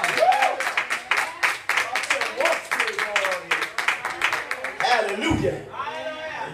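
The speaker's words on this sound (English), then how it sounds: "Y'all clap your hands right now." A church congregation claps in a quick, regular rhythm of sharp hand claps, fairly close and loud, with voices calling out over it and the clapping breaking off near the end.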